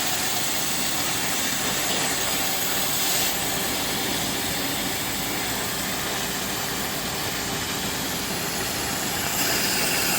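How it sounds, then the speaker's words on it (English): The 1.6-litre engine of a 1990 Toyota Corolla SE runs loud and close during radiator maintenance, a continuous broadband roar that stays nearly level for the whole stretch, with no voices. "now the guy in there is going to rev the engine a little bit."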